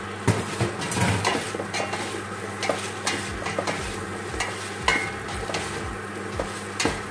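Garlic and onions frying in a pan for pork goulash give a close sizzle, punctuated by repeated utensil scrapes and knocks against the pan.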